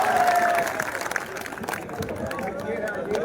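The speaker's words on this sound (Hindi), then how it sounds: "आप ताली ना बजाए तो फायदा क्या?" Applause from a crowd at a public election rally for an independent assembly candidate in Sikar, a short, steady patter of clapping mixed with crowd murmur and a voice speaking over it.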